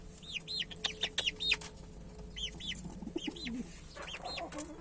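Birds call repeatedly, with bright chirps and whistles and lower clucking and cooing from fowl, fairly close against a quiet outdoor background.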